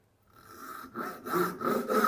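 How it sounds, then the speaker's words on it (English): A hand saw draws through wood held in a vise while cutting box joints along a knife line, rasping in a few steady back-and-forth strokes that grow louder, close up with no talking. "Let the saw do the work, nice and relaxed."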